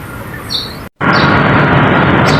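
Birds chirp and call briefly as three birds are released at a bus terminal in Cubao, over steady outdoor noise, a short gap of silence breaking the clip before the busy background returns.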